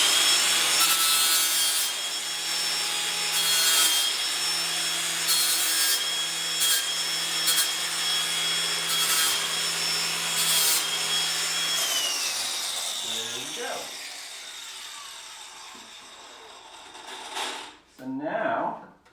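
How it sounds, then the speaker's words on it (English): A flat sanding disc grinds down the cut edges of steel threaded rod with a loud, steady abrasive whir broken by a few short pauses. It then stops, and a voice talks briefly at the end. "we'll switch to the flat disc just to sand down the edges a little bit"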